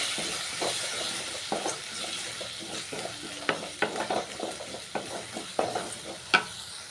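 An egg stirred into mint and coriander frying in a pan, with a steady sizzle under repeated scraping spoon strokes, close and moderately loud.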